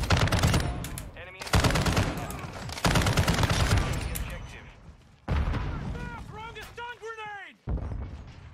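A RAAL machine gun fires in Call of Duty in several long, loud sustained bursts separated by brief pauses, with someone talking over the shooting.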